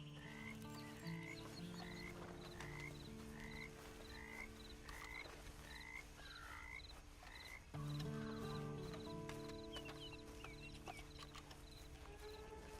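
A horse in the Red Dead Redemption 2 Online video game clip-clops steadily at a walk for several seconds, hooves close and clear over a constant music and ambient bed, with no talk.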